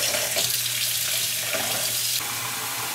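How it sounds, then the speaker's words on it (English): Hot water runs steadily from a tap, a hissing splash that shifts slightly in tone partway through. "I'm gonna run me some hot water."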